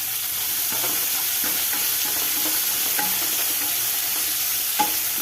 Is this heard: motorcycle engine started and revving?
no